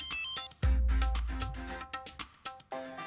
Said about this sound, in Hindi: महेश डोंगरे का फोन आ रहा है